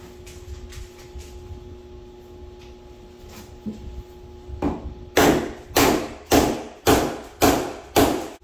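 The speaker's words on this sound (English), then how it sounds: "It's just a hammer." Light taps at first, then a run of about seven loud, evenly spaced hammer blows striking close by.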